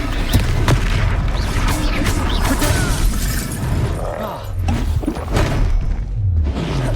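Hogwarts Legacy combat: a Confringo blasting spell goes off amid a dense wash of booms, thuds and crashing impacts, with voices shouting over the fight.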